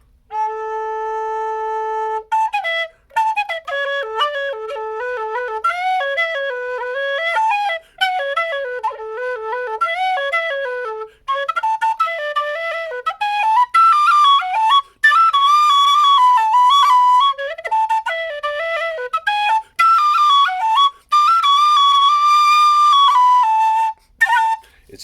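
A carbon-fibre Carbony tin whistle in C fitted with an air dam plays a lively melody alone, after an opening held note, with bright, clear tones and brief gaps between phrases.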